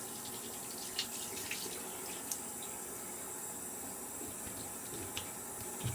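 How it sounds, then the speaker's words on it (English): A faucet runs steadily in a bathroom sink while a freshly shaved face is rinsed, a soft continuous hiss of water with a few small splashes and clicks, fairly quiet and close. "Just rinsing that off."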